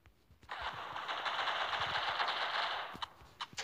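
Sustained burst of automatic gunfire in a first-person shooter game, a dense rapid rattle lasting a few seconds before a couple of isolated sharp shots.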